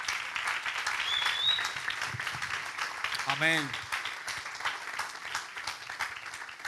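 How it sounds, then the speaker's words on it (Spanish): A church congregation applauds for the Lord during a sermon, a steady wash of clapping that carries on throughout while a voice speaks and sings over it. "Dar un aplauso al Señor."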